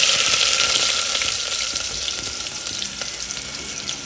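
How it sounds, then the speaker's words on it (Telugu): Cumin, mustard seeds, cloves and onions frying in hot oil in a pan, a loud continuous close-up sizzle with a bright crackling hiss and faint popping throughout, without voices. "కొద్దిగా జీలకర్ర కొద్దిగా ఆవాలు వేసుకుంటున్నాం అండ్ రెండు లవంగాలు వచ్చేసి ఆనియన్స్ వేసుకుందాం"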